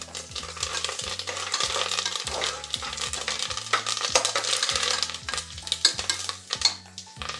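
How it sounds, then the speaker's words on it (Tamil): Peanuts and curry leaves fry in a hot pan for South Indian puli pongal, with a steady close sizzle and repeated scraping stir strokes throughout. "இப்போ நிலக்கடலை வெந்தெடுத்து நல்லா வறுபட்டு எடுத்து இப்போ கருவேப்பிலை போடுறேன்"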